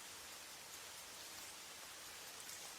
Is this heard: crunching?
no